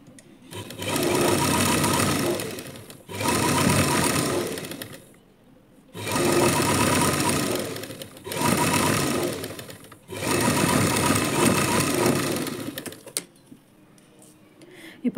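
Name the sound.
sewing machine stitching lining blouse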